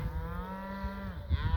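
A cow low in pitch moos once in a long sustained call during a cattle drive near a dam with a tire tank pad, fairly close, ending with a short rough grunt and some wind noise.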